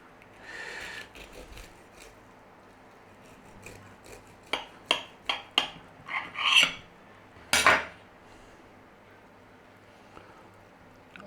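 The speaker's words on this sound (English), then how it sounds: "Let's just cut through here" A knife cuts through a crispy, garlic-loaded chicken cordon bleu roll, giving a series of sharp, close crunching and scraping strokes on a plate, then quiet.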